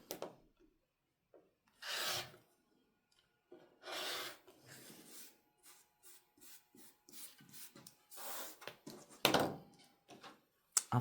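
Rotary cutter or scissors trimming the edges of a fabric quilt block, several separate soft rasping cuts with quiet pauses between them, close and fairly faint, no talking.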